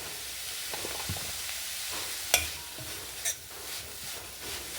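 Masala stuffing of lentils and turmeric frying in a pan, a steady close sizzle with a few light clinks of a utensil against the pan.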